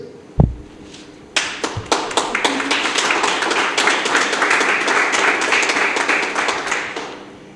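A crowd applauds players at a veterans' world draughts championship ceremony in Curaçao. A few scattered claps start things off, then the clapping builds into sustained, dense applause that continues steadily through to the end.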